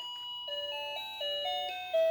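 A bright electronic tune plays note by note, a simple lullaby melody in clean beeping tones from a toy, steady and close with no talking.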